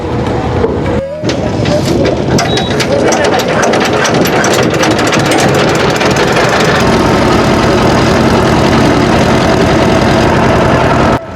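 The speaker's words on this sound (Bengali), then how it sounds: "এই ট্রলারে করেই আমরা সেই ওপারের উদ্দেশ্যে এখন যাব" A large trawler boat's engine idles and rumbles steadily at a river ferry ghat, loud and close, with clattering mechanical knocks and people talking in the background.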